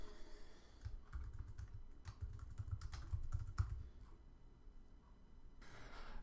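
Quiet, steady typing on a computer keyboard while entering text in Xcode for an iPhone tip calculator app, a run of light clicking keystrokes with a brief lull near the end.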